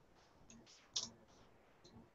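Computer mouse clicks during a Google Analytics walkthrough, a few soft sharp ticks with one louder click in the middle, quiet and close.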